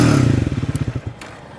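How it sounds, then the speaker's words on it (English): A 2023 Triumph Speed 400 blips its bassy exhaust close by, a deep burbling rev that drops into a quick run of thumping pulses and fades out with a light clatter, no talking over it. "Let me just show you how it sounds. So the exhaust is quite bassy"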